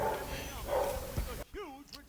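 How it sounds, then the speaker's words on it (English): A neighbor's dog barks and yips in the distance, a few faint barks partly under a voice speaking, followed by a short break. "I really hope y'all don't hear that dog barking"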